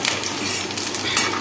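Lentil fritters (dal bora) sizzle steadily in hot oil, a dense, continuous frying crackle with occasional stirring clinks, close and alone.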